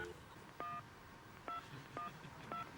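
Telephone keypad tones sound four times, each a short steady beep at an irregular pace, moderately loud over a low background hiss with no talking.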